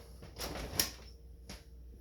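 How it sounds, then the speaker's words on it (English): An LG/Kenmore refrigerator door swings and shuts with a soft thud and a light click, followed by a faint second knock, close and quiet. "And we're gonna close the door."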